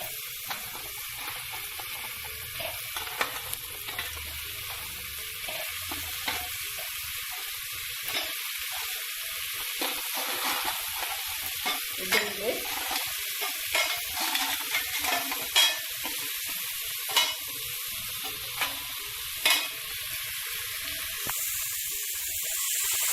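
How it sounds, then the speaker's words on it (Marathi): Crabs fry in a Malwani masala curry with a constant bright sizzling hiss, while a spoon stirs and knocks against the pan in scattered taps, close and without talk. "आता जे खेकडे घालूया."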